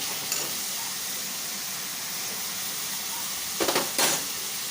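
Masala fries in a pan on a gas stove, a steady close sizzle and hiss, with a few brief scraping bursts from stirring toward the end.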